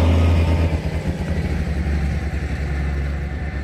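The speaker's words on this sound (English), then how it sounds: "Oh my God, there's a tractor going past." A tractor drives past in the countryside near powerlines, its engine a loud, steady low rumble that stays close and continuous throughout, with no talking over it.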